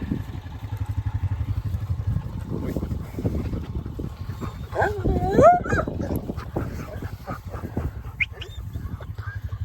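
A young working farm dog in New Zealand runs up a steep hill in a small paddock, with barks, yips and whimpers close by and someone talking over the movement and panting.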